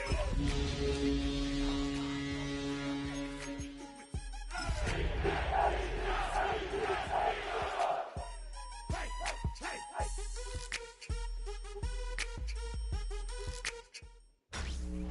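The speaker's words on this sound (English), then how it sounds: "the crowd is ready" Stadium crowd noise from a Madden football video game, a loud sustained roar mixed with hype music and punchy beats, swelling and cutting off abruptly in places.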